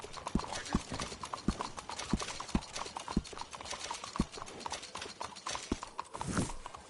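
Horse hooves clip-clopping in the video game Red Dead Redemption 2, steady rhythmic knocks at close range over a soft ambient background, with no talking.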